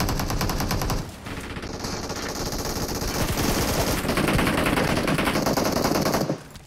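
Automatic weapon fire rattles in the mobile battle-royale game PUBG Mobile, a loud rapid stream of shots that dips briefly, resumes, then cuts off near the end. No voices are heard over the shooting.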